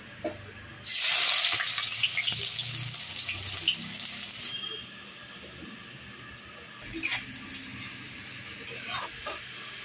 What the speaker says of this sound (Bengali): এবার আমি তেলটার মধ্যে বেরেস্তাটা ভাজার জন্য পেঁয়াজটা দিয়ে দেবো।